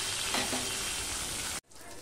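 Rohu fish pieces frying in oil, a dense close sizzle that runs steadily, then cuts off abruptly near the end, leaving a faint hiss.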